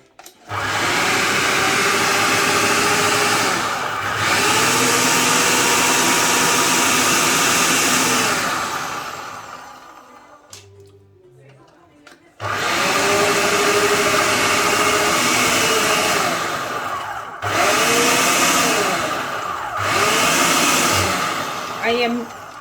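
Food processor with a blender attachment whirring in loud, steady bursts, running several seconds at a time, then briefly stopping before restarting, with short pauses between runs.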